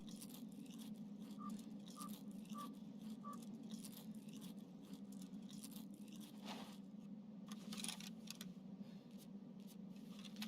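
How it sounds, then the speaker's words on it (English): A character in Escape from Tarkov PvE eats sugar, giving a faint, steady crunching and chewing that runs throughout under a low background hum. "I'll take this opportunity to eat."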